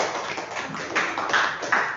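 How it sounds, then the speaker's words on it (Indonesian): Classroom students clapping together, a moderately loud patter of many small hands that swells toward the end with a few sharper accents. "tepuk tangan kalian semua"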